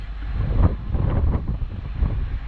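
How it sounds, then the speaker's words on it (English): Gusty wind buffets the microphone outdoors in low, uneven rumbling bursts, rising and falling without pause and with no voices. "A little windy out today, that's good."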